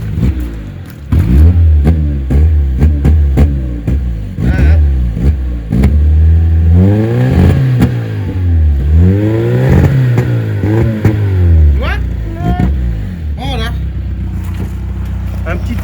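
A car engine, being tuned before a turbo is fitted, revs up and down repeatedly with rough, sputtering misfires from a rich fuel mixture and poor combustion, loud and close, with crackling breaks between the revs.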